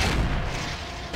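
Target blowing up in the video game Mechwarrior 4 Vengeance, a deep booming blast that fills the whole short moment and stays loud and rumbling throughout.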